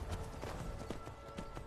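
A horse's hooves clip-clop in a quick, steady trot in Skyrim VR, soft and continuous without talk.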